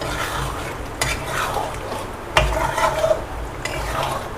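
Spices frying and being stirred in a pan for mutton dum biryani, a steady close sizzle with scraping spoon strokes and occasional clinks against the metal.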